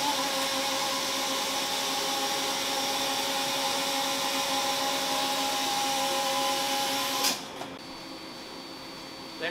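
An industrial saw machine cutting a 2 9/16 5K steel BOP part in a saw room gives off a steady, loud, even mechanical whir that holds for about seven seconds, then cuts off abruptly with brief clanks.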